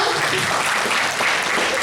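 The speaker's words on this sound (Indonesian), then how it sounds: "Tepuk tangan untuk kita semua." Seminar audience giving dense, sustained applause that fills the room at a steady, fairly loud level from start to finish.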